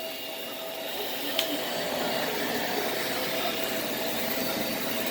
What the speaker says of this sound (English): vacuuming the hard floor